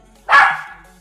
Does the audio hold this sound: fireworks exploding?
no